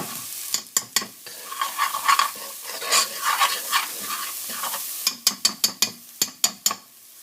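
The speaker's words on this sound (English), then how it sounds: "We're going to give this a quick stir. We're starting to brown up." Morels browning in butter in an aluminum pan, stirred with a series of close scraping strokes over a steady sizzle, then a quick run of sharp utensil taps against the pan.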